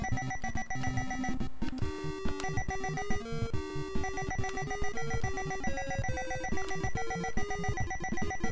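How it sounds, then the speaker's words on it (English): A telephone rings in the NES fishing game The Blue Marlin, a chiptune electronic ringing layered over continuous busy 8-bit music, loud and steady throughout. "Oh, it's ringing."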